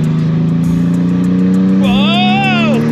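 A car engine revs under light throttle, a steady low drone that swells into a rising and falling rev near the end, with a voice speaking over it.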